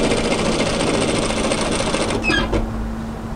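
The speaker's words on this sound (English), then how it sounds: "And now just continue sewing all the way back to the underarm." A sewing machine stitches a knit military-style cropped jacket in a fast, even whir that runs loud and close, then cuts off after a couple of seconds, leaving a softer hum.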